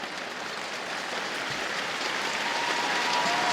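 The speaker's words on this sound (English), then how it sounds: "the crowd show their appreciation" A badminton crowd applauds a doubles victory with sustained, dense clapping that swells slightly and holds steady throughout.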